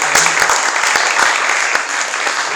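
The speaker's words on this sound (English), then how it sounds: "Let's have a round of applause" Applause from the audience at a community forum on wildfire preparedness and home insurance, a dense, steady wash of clapping that stays loud and close for the whole stretch, with a few sharper individual claps standing out.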